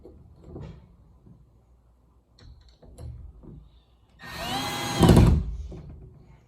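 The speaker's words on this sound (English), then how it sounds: "Put the screw on the drill so you can drill it in." A few quiet knocks and handling sounds, then a power drill whirs loudly for about a second as it spins up and drives a screw into a closet door handle.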